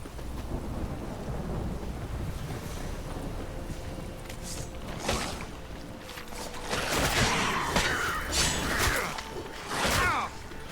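Rain pours in The Witcher 3 game world, a steady wash of rainfall broken by deep rumbling thunder rolls that swell loudly in the latter half.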